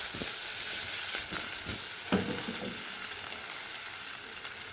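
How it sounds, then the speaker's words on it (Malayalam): Potato pieces fry in oil in a pan over a high flame, giving a steady bright sizzle broken by several scraping stirs, close and fairly loud with no talking. "തീ ഫുള്ളിൽ തന്നെ ഇട്ടിട്ട് നമുക്ക് ഫ്രൈ ചെയ്തെടുക്കാം"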